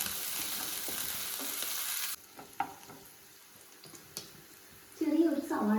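Chopped garlic, ginger and green chilli sautéing in a hot pan for vegetable kuruma: a loud, bright sizzle that suddenly drops to a quieter crackle with occasional stirring clinks, then a voice speaks briefly near the end.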